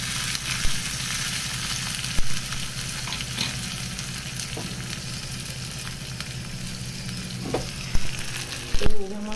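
Tadka tempering crackles and sizzles steadily in hot oil with green coriander added, a dense continuous frying hiss with a few sharper pops and stirring clatters near the end, fairly close and with no voices.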